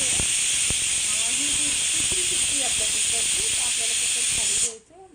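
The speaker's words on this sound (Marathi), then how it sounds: "ही दुसरी शिट्टी आपल्या कुकरची।" A pressure cooker whistle cooking masoor dal vents steam in a loud, steady hiss that holds for nearly five seconds and then cuts off abruptly.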